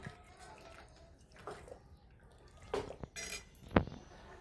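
A spoon stirs mutton into masala in a metal pot, giving quiet wet scraping and a few sharp clinks, with the loudest knock near the end.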